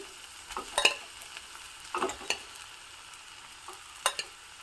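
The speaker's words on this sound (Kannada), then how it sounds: "ಇದಕ್ಕೆ ಮಾಡಿಟ್ಕೊಂಡಿರುವಂತಹ ಬಿಸಿ ಬಿಸಿ ಅನ್ನವನ್ನು ನಾನು ಹಾಕ್ತಾ ಇದ್ದೀನಿ" Hot cooked rice is added to wilted greens in a pan, with a few quiet, scattered clinks and scrapes of a spoon against metal over a faint sizzle.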